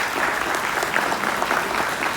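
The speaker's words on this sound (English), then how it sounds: "So I want a loud round of applause for the IEEE chapter," At a hackathon, an audience gives a loud round of applause to the IEEE chapter of VIT, a thick, steady wash of many hands clapping together without a break.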